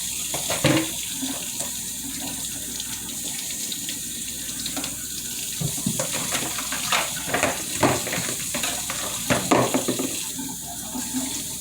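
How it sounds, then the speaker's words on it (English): A potato is rinsed under a running kitchen tap before baking. A steady stream of water pours and splashes in the sink throughout, with irregular louder spatters as the potato is turned under the flow. "once your potato is rinsed"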